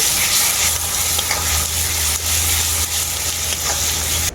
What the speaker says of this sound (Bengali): এরপর আমি মশলাটাকে খুব ভালো করে কষিয়ে নেব